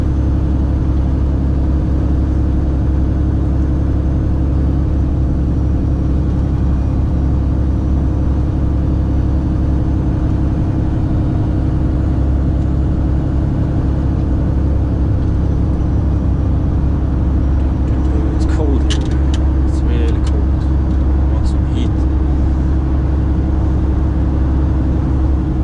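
A truck pulling a trailer driving along a road, heard from inside as a constant low engine drone and road hum, steady and loud throughout, with a brief burst of rattling clicks late on.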